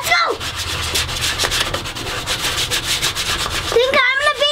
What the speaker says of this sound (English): we're gonna spend a few minutes sanding on the base